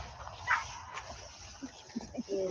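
A dog whimpers and yips in short, scattered bursts, played back from a video and heard faintly and thinly, with low room noise between the sounds.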